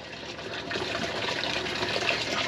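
Seawater gushes into a container while someone fishes at sea, heard as a steady, close, fairly loud rushing and splashing that grows slightly fuller as it fills, with no voices.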